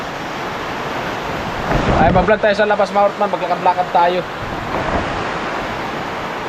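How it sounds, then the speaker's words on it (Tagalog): Heavy typhoon rain and gusty wind roar steadily outdoors in Bicol, loud and close with wind buffeting, while someone talks over it. "Grabe, lakas ng ulan."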